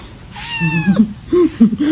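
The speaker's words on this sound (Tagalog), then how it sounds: "ipapasok ko na muna itong aking halagang pusa" A small new kitten gives one close, loud meow, then several shorter chirping cries in quick succession.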